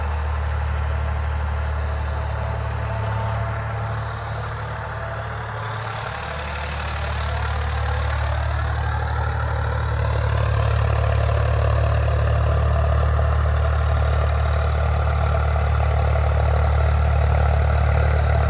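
A tractor working in low range pulls a 7-foot rotavator through a field, its engine a steady heavy drone close by, swelling slightly louder partway through, with no talk.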